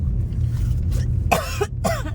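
A person coughs twice, sharp and close, one after another, while standing in cold wind, over a steady low rumble of background noise.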